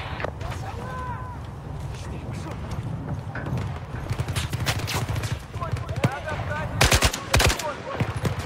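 Sustained automatic gunfire in Battlefield 4 on the Baku mission, with dense rapid bursts of rifle and machine-gun shots and louder cracks near the end. Voices mix in with the shooting.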